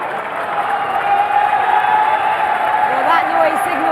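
Crowd cheering at the FIFAe Club World Cup esports event, a steady roar of voices and applause filling the hall, with a commentator talking over it.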